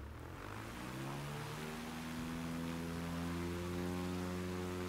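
Piston engine of an Aviat Husky bush plane in Microsoft Flight Simulator 2020 runs up close by, a steady droning hum whose pitch climbs gradually as power increases, heard alone.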